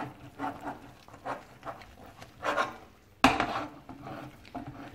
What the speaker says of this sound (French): vous allez mélanger sans interruption jusqu'à ce que ça forme une boule